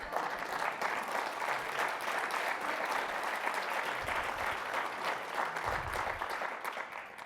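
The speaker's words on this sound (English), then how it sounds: "I already thought that was going to get applause." An audience at an ecosystem summit's opening remarks breaks into steady applause, dense continuous clapping from a crowd that carries on for several seconds at moderate distance.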